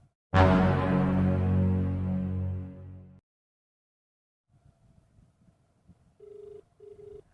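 A telephone rings unanswered, one long loud electronic ring that fades away, followed by quiet and a faint, distant repeating tone of a call still connecting.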